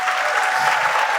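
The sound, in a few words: audience applause in church meeting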